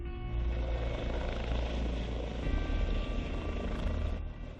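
A helicopter flies close by with a steady, loud low rotor drone and engine whine that holds level throughout, with no talk over it.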